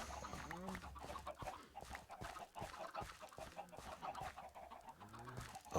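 Chickens clucking in the Minecraft game, several birds with repeated short clucks and squawks scattered across the clip, fairly close and moderately loud over a steady game background, with no talk.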